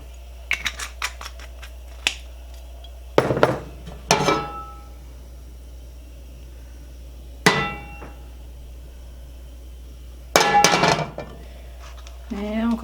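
A pan used for frying onions is handled while oil goes in, giving scattered sharp metallic knocks and clinks, some in quick clusters, against a steady low background hum.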